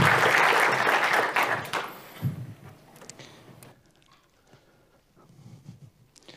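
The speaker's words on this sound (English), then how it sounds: "give him a warm round of applause" Warm applause from a symposium audience for a speaker taking the stage, loud and dense at first, then thinning out into scattered claps and a few closing bursts.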